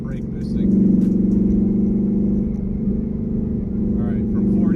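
A 1000hp drag car sits on a cold street, brake boosting around 2,500 RPM, its engine holding a loud, steady low rumble close by that swells slightly and stays heavy throughout.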